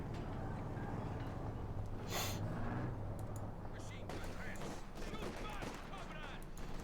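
Heavy gunfire and artillery in Company of Heroes 2, a dense, continuous battle din of shots and blasts with a loud burst near the two-second mark, all under steady commentator speech.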